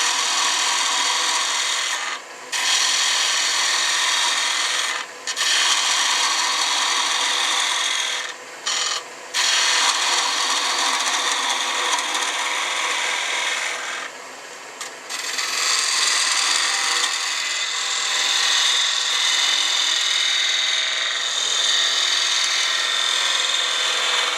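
A woodturning gouge takes a light cut across a spinning wooden egg on a lathe, giving a steady close scraping rasp with a few brief pauses where the tool lifts off the wood.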